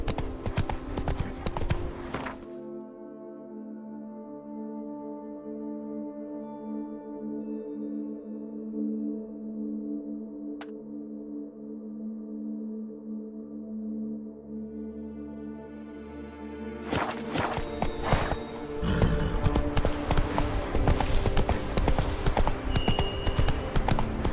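Geralt's horse Roach clip-clops in The Witcher 3, with a steady hoof rhythm under a sustained musical drone, and the hooves grow louder and busier toward the end.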